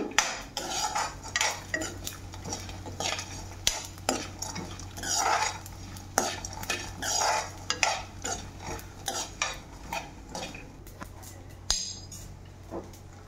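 Coriander seeds and peanuts being dry-roasted in a pan, a metal spatula scraping and clinking against the pan in an irregular run of sharp strokes over a faint sizzle, close and fairly loud.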